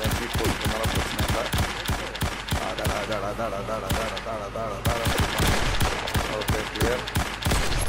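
Gunfire in the video game Project IGI 2, rapid bursts of automatic shots cracking in quick succession with a short lull midway, loud and close, with a few words spoken over it.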